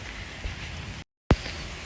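Rain falls steadily on a rainy day in Canada, a continuous close hiss with a few louder drop impacts and a brief break in the sound partway through.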